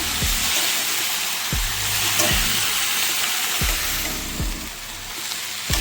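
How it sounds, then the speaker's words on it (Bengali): Note greens frying in a pan with no water added: a steady close hiss of sizzling broken by a regular knock of the spatula as they are turned over and over, with no voices. "এটা আমি জল ছাড়া ভাজবো। এইভাবে ভালো করে নেড়ে চেড়ে দেব শাকটা।"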